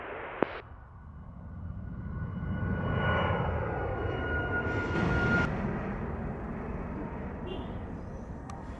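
A Phenom business jet on approach to runway 7 at Montego Bay, heard outdoors as a steady, fairly distant engine roar that swells and fades with a thin whine, a sharp click near the start.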